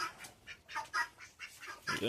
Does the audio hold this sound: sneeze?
no